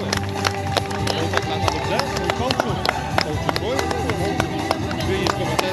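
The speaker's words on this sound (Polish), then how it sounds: "wielkie brawa, miejsce trzecie." A crowd at an outdoor award ceremony for a 10 km run claps for the third-place finisher, the scattered sharp claps running throughout beneath a loud voice speaking over a microphone.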